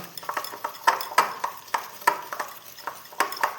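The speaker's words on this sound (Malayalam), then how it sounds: "നല്ലോണം മെൽറ്റ് ചെയ്യുക, പഞ്ചസാരയും ബട്ടറും കൂടി." A spoon stirs sugar and butter as they melt in a pan for custard cookies, making a quick, irregular series of close scraping clinks against the metal with a soft sizzle underneath.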